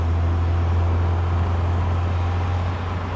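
A 1971 MGB Roadster driving on a road into Woodbridge, a steady low engine drone with road and wind noise, constant and close throughout, no talk.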